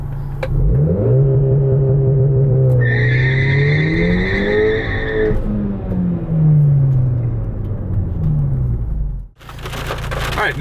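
A VW GTI engine with launch control engaged is held near 4,000 RPM in first gear with traction control off, droning loud and steady with a wavering pitch before an abrupt drop and renewed roar.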